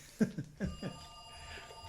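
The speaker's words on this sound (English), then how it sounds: "Don't mind the phone in the background." A telephone rings in the background during a podcast recording, several short quiet ring bursts heard at a distance, with no talk over them.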